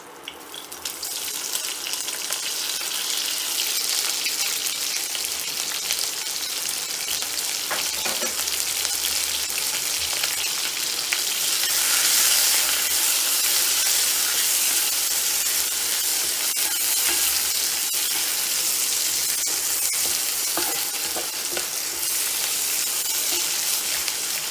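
Onions fry in a Lodge 9-inch mini wok for chicken and vegetable stir-fry noodles, a loud, steady, close hiss of sizzling oil that runs without a break, with faint occasional scrapes and no talk.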